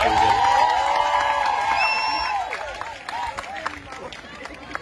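Applause and cheering from a crowd filling a college hall at a poetry mushaira, loud and sustained for a couple of seconds before fading into scattered claps and murmuring.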